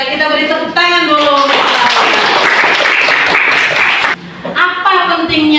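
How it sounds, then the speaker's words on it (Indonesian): A classroom of students breaks into loud, close applause for several seconds between stretches of speaking voices, the clapping cutting off abruptly before talk resumes. "Kita beri tepuk tangan dulu."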